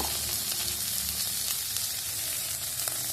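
Tomatoes sizzling loudly in hot oil in a pan, a steady close-up frying hiss with faint stirring scrapes, no voices.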